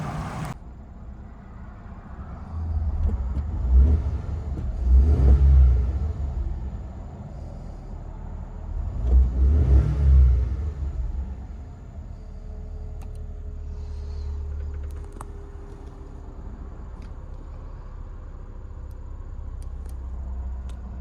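A 1998 Suzuki Jimny on its stock exhaust, heard from inside the cabin, idles low and rises in two distinct revs before settling back to a quiet, steady idle.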